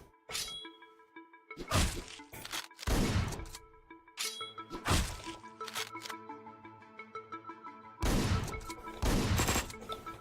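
Gunfire in Hotline Miami 2, loud sharp bursts of shots in clusters with gaps between, over a thin steady music background.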